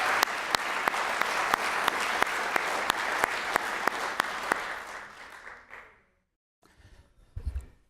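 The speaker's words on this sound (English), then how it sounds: "So a round of applause for our color guard." An audience at a Veterans Day ceremony applauds the color guard, with steady clapping that fades away over several seconds before the room goes quiet, followed by a few faint thumps.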